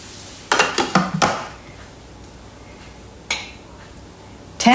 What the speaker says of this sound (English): And now we're going to pop the lid on.